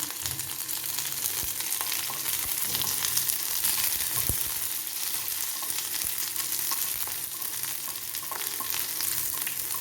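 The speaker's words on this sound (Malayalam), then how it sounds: "കറിവേപ്പിലി ഇട്ട് കൊടുക്കാം" Steady oil sizzle and crackle of curry leaves frying with onions and mustard seeds in a hot pan, continuous throughout with occasional sharper pops, no voices.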